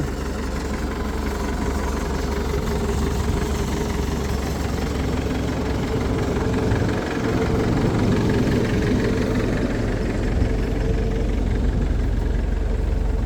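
A steady engine idles close by, a low constant rumble with a faint rhythmic chug running evenly throughout, no voices.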